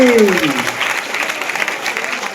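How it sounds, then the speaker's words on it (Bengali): An audience at a school freshers' welcome event breaking into loud applause, dense clapping from many hands that starts right after a person speaks and stays strong for a couple of seconds. "আরে জোরে হাততালি"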